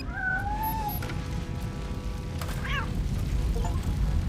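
A cat meows a few times in the video game Robocop Rogue City, high and fairly clear over a low, steady rumble of background game ambience.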